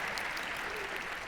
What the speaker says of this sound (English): yes, you can applaud yourself